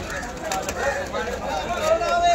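Pigeons coo softly amid a busy pigeon market din in Kolkata, with voices talking throughout and scattered bird calls.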